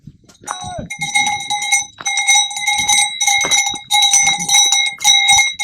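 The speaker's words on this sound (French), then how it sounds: "Et tu la sens la cérémonie des cloches là?" Several cowbells clang loudly and continuously on grazing livestock, a dense overlapping ringing close by, with people talking and calling between the bells during a mountain trail race.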